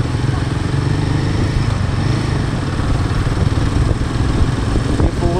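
A Royal Enfield Himalayan 450 motorcycle with a raw, unmuffled exhaust runs steadily and loudly close by on a hot morning road, its engine note holding an even, continuous throb from start to finish.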